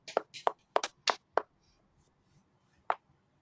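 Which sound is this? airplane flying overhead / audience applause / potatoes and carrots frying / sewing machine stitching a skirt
audience applause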